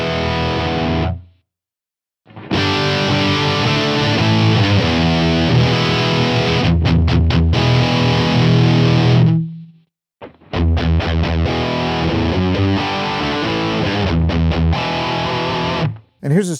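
Heavily distorted electric guitar through a UAFX Knuckles '92 Dual Rectifier-style amp pedal on the orange channel, loud chugging riffs with palm-muted stops in two passages separated by short silences, compared between normal and modern voicings.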